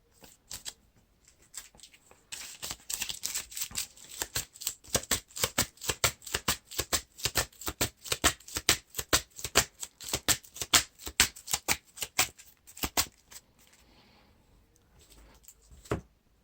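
Cards from a Lord of the Rings card game being riffle-shuffled, a rapid, crisp run of close flicks and snaps that builds, holds for several seconds and trails off, with no voices.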